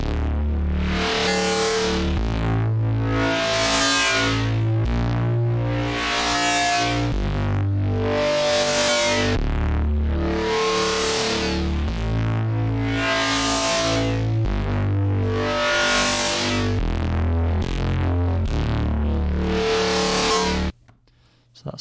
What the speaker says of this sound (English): Just turn the resonance up on the filter a bit.